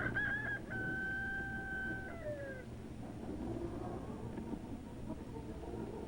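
A male chicken crows once, a long, tonal cock-a-doodle-doo with a falling tail, heard at moderate distance over a steady low background hum, followed by quieter ambience without talk.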